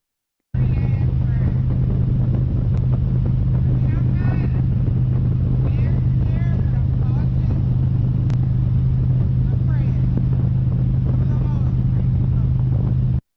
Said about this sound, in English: she's on a motorcycle, and you hear all the motorcycle noise, and faintly in the background, you hear the voice